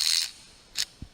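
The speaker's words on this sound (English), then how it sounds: "Best to use a 12-point socket on it so that it fits better." A ratchet turning a 14 mm 12-point socket to lock down a bolt gives two short bursts of bright clicking, each a fraction of a second, close by, followed by a single soft low knock.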